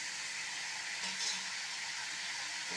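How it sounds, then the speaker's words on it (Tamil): Onions and tomatoes sauté in a pan for a chayote chutney, a soft steady sizzle and crackle of frying with a faint stirring scrape partway through, close and without talk. "வெங்காயம் கொஞ்சம் வதங்கினதும் தக்காளியும் சேர்த்துடலாம்"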